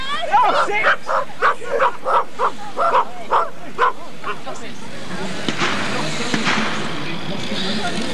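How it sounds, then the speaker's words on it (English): A dog gives a rapid series of about ten sharp barks close by, then falls quiet while someone talks and background noise continues. "Good dog, Henry."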